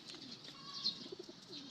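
Agitated pigeons cooing during a house-to-house pigeon fight, low throaty coos repeating in quick succession, faint and somewhat distant over a steady hiss.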